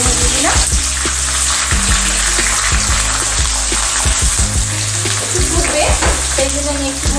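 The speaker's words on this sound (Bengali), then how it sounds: "তেল আর ঘিটা দুটোই মিশে গেছে, আমি এবার বিনসগুলো দিয়ে দিলাম, একটু ফুটবে" Green beans frying in a mix of white oil and ghee, a loud, steady close-up sizzle with occasional stirring scrapes of the pan.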